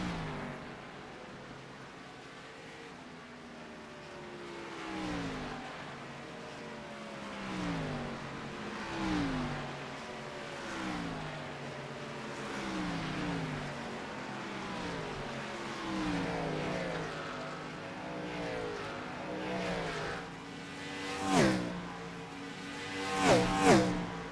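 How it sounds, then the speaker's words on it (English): Gen 4 NASCAR stock cars in the iRacing video game scream around the Iowa oval, engines rising and falling in repeated pitch sweeps as they pass, growing louder with sharp peaks near the end. "listen to these Gen 4 cars scream around late in the race"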